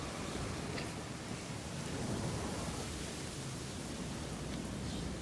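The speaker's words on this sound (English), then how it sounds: "Going through a bit of a storm here in Microtech" A thunderstorm rolls over Microtech in the Star Citizen video game: steady rain hiss and a low, distant rumble of thunder, faint and continuous, with no voices.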